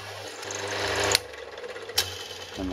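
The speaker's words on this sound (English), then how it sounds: "let's drill this last hole" A slightly oversized drill bores a hole in a metal part during a milling table and vice restoration, giving a low, steady motor hum with two sharp clanks.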